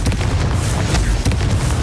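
A Confringo fire-blast spell goes off in Hogwarts Legacy, landing as a loud, dense booming burst with repeated heavy thumps and crackling impacts across the short stretch.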